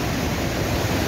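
The large waterfall at Cascada Escondida in Cochamó roars as a dense, even wall of rushing water, loud and unbroken throughout.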